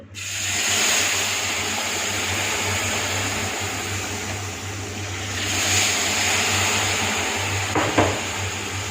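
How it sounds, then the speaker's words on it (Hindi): Steam hissing as water is poured into a hot pan while making suji halwa, a continuous broad hiss that swells midway, with a brief clatter near the end. "इसमें से स्टीम निकलेगी।"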